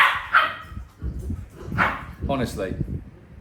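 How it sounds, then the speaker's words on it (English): Dogs bark a few times close by, mixed in with someone talking over them, on a day with westerly wind near Phuket. "Shush, dogs!"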